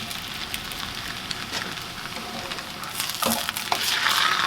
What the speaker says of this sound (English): So now my pan's hot, I'm just going to throw in my tortilla bread.